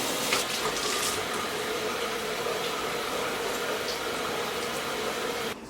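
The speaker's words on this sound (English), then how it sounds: "Gonna dampen my skin." Water runs steadily from a tap into a sink while skin is dampened before exfoliating, a close, continuous splashing rush that stops abruptly at the end.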